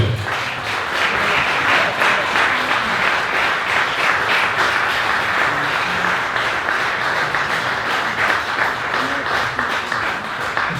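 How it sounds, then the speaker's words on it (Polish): Loud, warm applause from a standing audience at an Independence Day anniversary ceremony in Drohiczyn, honouring plumbers; dense, sustained clapping fills the whole stretch at steady intensity. "Powstańcie i naprawdę bijmy im gorące brawa za to, co oni robią."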